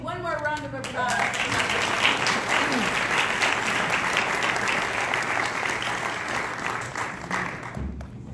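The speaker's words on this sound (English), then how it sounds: "Let's give one more round of applause." After a brief spoken lead-in, an awards-ceremony audience breaks into sustained, thick applause that holds steady for several seconds before fading out.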